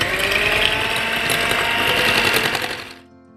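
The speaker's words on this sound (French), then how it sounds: "là j'ai bien mixé le sucre avec les jaunes d'œufs" An electric mixer whirs steadily at high speed as it beats sugar into egg yolks, a close, loud buzzing drone that winds down and cuts off near the end.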